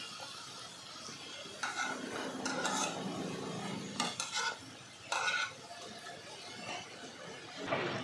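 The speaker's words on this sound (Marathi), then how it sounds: "हे पहा, आता करंजी परतून घेऊया." Potato-pea karanji being turned over while frying in a pan, with soft oil sizzle under intermittent scraping and stirring strokes of a utensil against the pan, close and fairly quiet.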